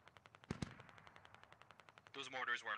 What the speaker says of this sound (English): Got a Dishka, sounds like it's firing.